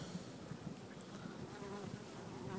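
Dense, continuous buzzing of many honeybees close by at a hive with its queen, a steady hum with individual bees droning past.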